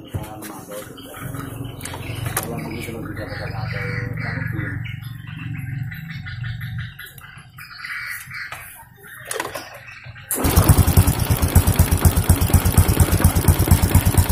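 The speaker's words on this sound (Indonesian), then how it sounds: "Nah ini motor kan sudah hidup ya" A Honda Karisma Supra 125 motorcycle engine, fitted with a Revo regulator, fires up about two-thirds through and settles into a loud, steady idle with a rapid low throb; before that only quieter, mixed background activity is heard.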